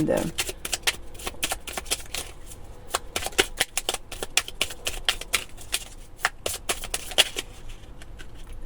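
Oracle cards being shuffled for a weekend card reading: a steady run of quick papery riffles and flicks, close and clear, with no talking over it.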